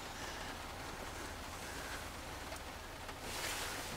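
Steady rain falls outdoors near a van on a building site, a dense, even hiss that fills the whole clip with no talk and swells slightly louder near the end.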